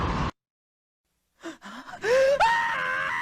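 Mario's scream edited into an anime trailer: a short burst of noise, silence, then a rising, pitch-bending cartoonish yell that holds loud and strained to the end.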